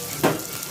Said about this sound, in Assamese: এইখিনি অকমান ভালদৰে ভাজি লৈছো লৰাই লৈছো